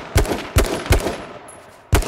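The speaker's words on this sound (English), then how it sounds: "Yeah, someone's shooting at them." Gunfire in the survival battle royale H1Z1: four sharp, loud shots spaced irregularly, each with a brief echoing tail, ringing out alone without any talk.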